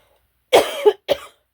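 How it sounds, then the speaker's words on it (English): One raspy cough, then a second shorter cough after a short pause, close and clear with no talking. "Still trying to get over this cough thing."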